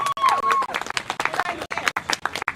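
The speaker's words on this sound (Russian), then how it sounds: "Аплодисменты" An audience at a concert in Lefortovo claps in a loose, uneven burst. Individual hand claps stand out close by amid a sustained tone and scattered voices.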